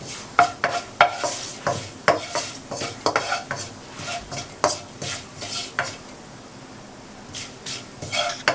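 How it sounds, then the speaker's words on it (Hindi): Turmeric, cumin and a bay leaf fry lightly in a pan while a spoon stirs and scrapes against the metal in irregular clinks over a soft sizzle. "इसको हल्का सा फ्राई कर लें।"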